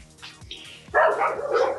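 Neighbouring dogs next door let out a couple of barks and yips, loud and close, followed by a rougher burst of barking.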